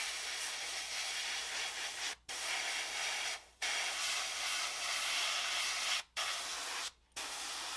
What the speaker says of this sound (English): Spray the bottom of these couplers.